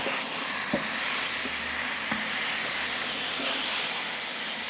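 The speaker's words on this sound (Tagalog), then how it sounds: "Ito nga palang pagprito na ginagawa ko sa pork chop ay optional step lang." Pork chops frying in hot oil in a pan, giving a steady, close hiss throughout with a few faint clicks and pops.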